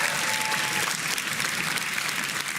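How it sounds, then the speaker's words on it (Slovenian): A crowd applauds a basketball player, a dense, steady wash of clapping filling the whole moment without pause. "Dajmo en aplavz, Goran, bravo!"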